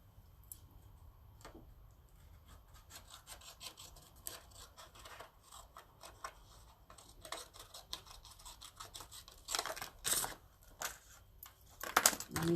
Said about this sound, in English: Let me cut this too.